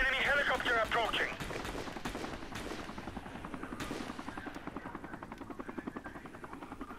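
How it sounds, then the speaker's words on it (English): Steady chopping rotor thrum of a video-game helicopter, with bursts of gunfire and game effects, a voice briefly heard at the start. "Enemy helicopter approaching!"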